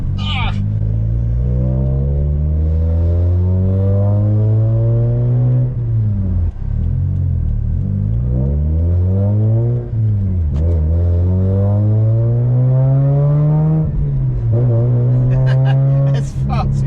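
Mazda RX8 rotary engine with a very loud aftermarket exhaust revving continuously, pitch sweeping up and down through repeated rises and drops with crackling overrun, close and dominant throughout.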